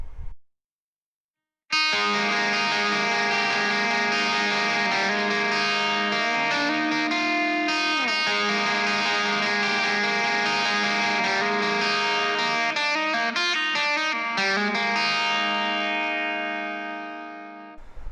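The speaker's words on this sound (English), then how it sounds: "now I play with like a little bit more like distortion, not like super heavy, but just you know, a little bit of crunch with the reverb still on." An electric guitar plays a sustained melodic lead with light crunchy distortion and reverb, ringing notes and slides lasting throughout before fading at the end.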